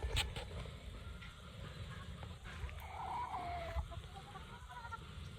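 Young brood stag rooster on a gamefowl farm, giving faint clucks and short calls at a distance over a steady outdoor background hum.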